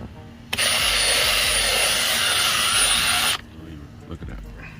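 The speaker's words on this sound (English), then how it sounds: "So I have a brush on my Milwaukee drill." A brush attachment spun by a Milwaukee drill scrubs a sprayed car headliner in a 2019 Nissan Armada, a loud, steady whirring burst of about three seconds that stops abruptly, with quiet background before and after.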